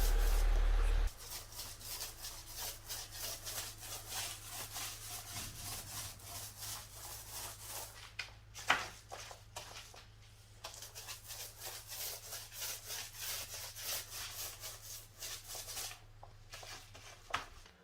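A Venetian trowel scrapes a freshly applied plaster layer off a wall in repeated rapid rasping strokes, close and fairly quiet, with brief pauses between passes.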